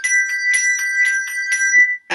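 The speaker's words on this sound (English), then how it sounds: "So it's harder to damp that first bell while you're ringing the second." English handbells ring in a quick, even sequence of clear sustained tones, about nine strikes over two seconds, close and bright, followed by a brief clatter at the end.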